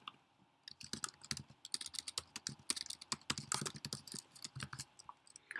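Rapid, irregular keystrokes on a computer keyboard while code is typed, close and crisp with short pauses between bursts, no talking.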